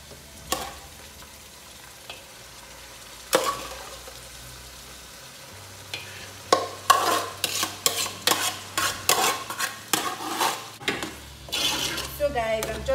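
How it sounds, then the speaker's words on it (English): Boiled tomato, pepper and onions frying in a pot: a soft background sizzle broken by sharp spoon scrapes and clanks, which turn into a quick steady stirring rhythm in the second half. "This is my boiled tomato, pepper and onions. I'm going to also fry it in here."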